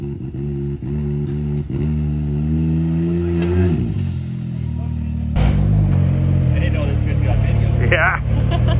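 A Maverick off-road vehicle's engine turns over and settles into a loud idle, then revs up and down with rising and falling pitch while someone talks over it outdoors.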